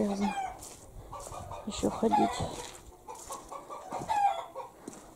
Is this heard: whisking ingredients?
no